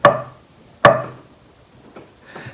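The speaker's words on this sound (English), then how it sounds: "This is more for chopping down like this." A flat-bladed Japanese-style knife chopping down onto a cutting board, two sharp close knocks spaced under a second apart, then fainter lighter taps.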